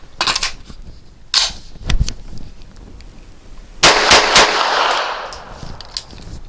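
A Grand Power Stribog SP9 A3 firing Hornady Critical Defense ammunition outdoors: a few sharp, separated shots early, then a quick burst of loud reports with ringing echoes trailing off, no voices.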